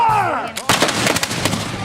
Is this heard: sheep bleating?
no